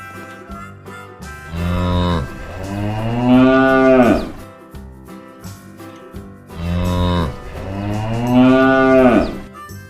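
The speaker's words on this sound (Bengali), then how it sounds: "গরু বাছুর দাঁড়িয়ে আছে" Cattle, a cow and her calf, moo in two long, drawn-out calls separated by a short pause; each call swells in loudness, is heard close and clear, and has no talking over it.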